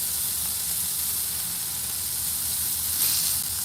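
Sirloin steak searing in a hot pan, being moved around to brown the sides and fat, gives a steady, close hiss and sizzle that holds evenly throughout, swelling slightly near the end.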